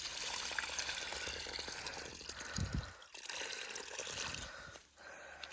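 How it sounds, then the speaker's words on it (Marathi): Water is poured onto small grafted saplings, a soft steady splashing trickle that stays faint and continuous with brief dips. "हे पाणी टाकलं"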